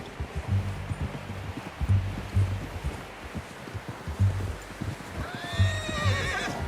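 Hooves clip-clop in a steady walking rhythm in Red Dead Redemption 2, close and moderately quiet, joined near the end by a high, wavering horse whinny.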